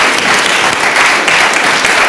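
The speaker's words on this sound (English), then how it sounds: "Can we get just one more round of applause for today's discussion?" Loud, close audience applause after a panel discussion at a community summit, a dense continuous wash of clapping throughout.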